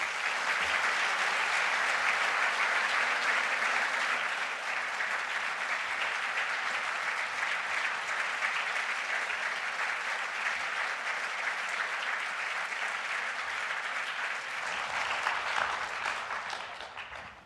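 Audience applause welcomes speakers to the stage at the JCCSF's Kanbar Hall, a sustained, dense clapping from a large crowd lasting about fifteen seconds before tapering off.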